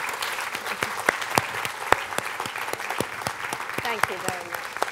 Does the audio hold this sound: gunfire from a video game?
no